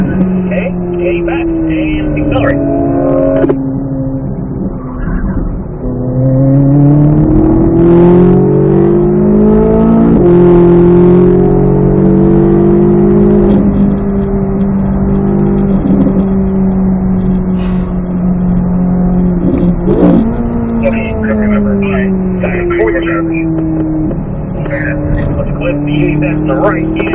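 A C8 Corvette Z06 accelerates around the Spring Mountain race track, its loud in-car engine note climbing and falling through the gears, with a voice talking over it.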